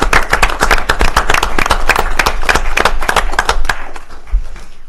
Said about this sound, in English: I do believe that a round of applause is in order for such an extraordinary achievement